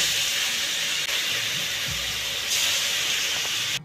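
Koi fish frying in hot mustard oil, a loud, continuous, broad hiss and sizzle heard close, with a few faint knocks underneath.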